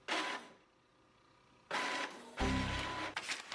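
A printer whirs and clatters in bursts as it tries to print, a loud mechanical run, a quiet gap, then two more grinding bursts with a lower motor hum.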